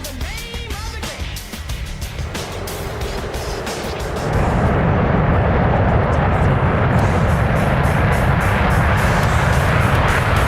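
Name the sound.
F-15E Strike Eagle jet taking off and climbing, flight simulator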